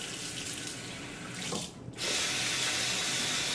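Water runs steadily from a tap while alum is rinsed off after shaving, a loud continuous splashing stream that briefly dips as something passes under it before resuming full flow.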